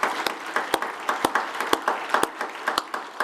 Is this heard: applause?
yes